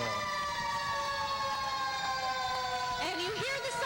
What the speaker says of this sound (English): And you hear the sirens